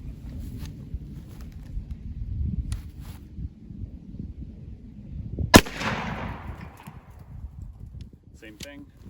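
A single loud 12 gauge shotgun slug shot, fired outdoors at a pumpkin target, cracks sharply around midway and decays into a short rumbling echo over low background noise.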